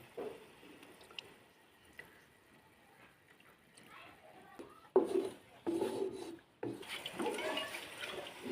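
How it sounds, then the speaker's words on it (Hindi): Water is poured from a measuring cup into a bowl of chickpea chaat with yogurt, chana salt and cumin powder, giving a few short splashing, trickling bursts in a quiet kitchen, close and moderately loud. "थोड़ा सा पानी शामिल करेंगे।"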